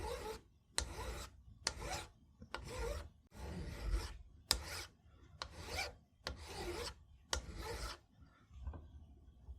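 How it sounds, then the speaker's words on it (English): Fine metal file rasping steel for a Belgian pinfire revolver loading gate, about nine regular back-and-forth strokes, close and clear, with short pauses between them and no talk. "I'll switch to a fine file."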